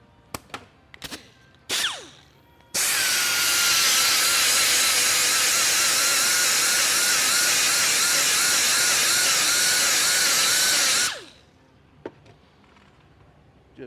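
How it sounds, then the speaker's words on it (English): A few sharp clicks and taps lead into a buffing wheel grinding an edge onto a string trimmer's line cutter, a loud, steady, harsh whine lasting about eight seconds before it cuts off, followed by faint taps. "I just take a buffing wheel like this."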